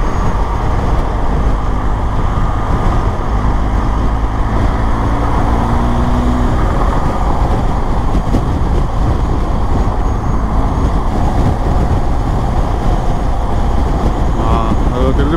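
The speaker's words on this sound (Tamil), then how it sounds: "டிராஃபிக்காக இருக்கு" Busy city road traffic in Panama passes by, a loud, constant rumble of engines and tyres with low droning tones and no clear speech.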